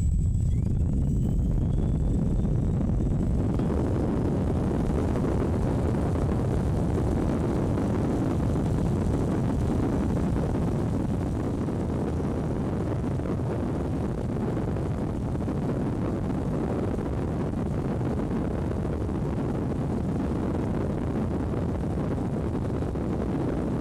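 An Emax GT2826 860Kv brushless motor runs on a test bench, spinning up after a few quiet seconds into a loud, steady, rushing whoosh that holds evenly to the end.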